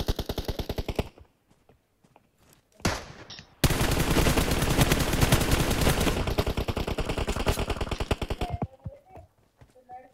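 Automatic rifle fire in PUBG Mobile rattles in loud rapid bursts, a long sustained volley dominating the middle, with short pauses and a brief muffled break between strings of shots.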